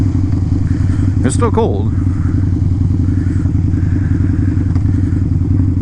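A Harley-Davidson motorcycle rides through a snowy blizzard, its engine holding a loud, steady low rumble throughout with wind buffeting on top, while a rider talks over it.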